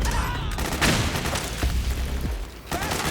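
Rapid bursts of gunfire crackle in Metal Gear Solid 4 as a battle rages, several loud overlapping shots in quick succession with booming low rumble underneath.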